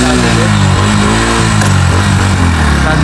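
A motorcycle on a hill road from Syangja to Pokhara slips into neutral, its engine revving loudly and steadily right up close with a rough, throbbing drone.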